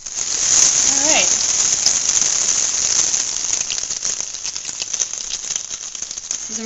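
Batter-coated squash blossoms frying in a hot pan give a loud, dense crackling sizzle like heavy rain, close and continuous, with a brief voice near the start.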